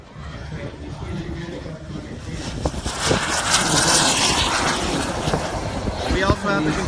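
A model Havoc aircraft flies overhead at a Pearl Harbor warbirds event, its engine whine rising in pitch as it passes fairly close over a broad outdoor rumble, with a voice talking underneath.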